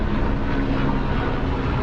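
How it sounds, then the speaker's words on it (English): A helicopter passes overhead outdoors in Old Dubai, a steady low rotor and engine rumble filling the moment, close and continuous with no speech. "Just waiting for the helicopter to pass."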